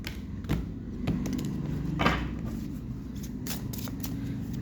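A new tarot deck is shuffled and cards are drawn, giving soft riffling and flicking bursts with a few sharp snaps, close and quiet, with no talking.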